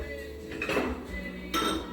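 Dishes clink and rattle as a bowl is pulled from a stack in a home kitchen while preparing a frittata, with two or three close, bright bursts of clattering ceramic.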